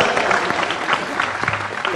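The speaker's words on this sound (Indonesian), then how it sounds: "tepuk tangan sekali lagi untuk Faisal." An audience at a university hall gathering in Surabaya breaks into dense, steady applause, with many hands clapping together close and loud, and voices faintly mixed into the crowd sound.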